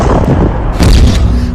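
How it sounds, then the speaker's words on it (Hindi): A big explosion hits an Israeli Merkava tank during a Hamas attack, a short, loud, heavy boom with a thudding low rumble, close and alone. "चंद सेकंड बाद होता है बड़ा धमाका"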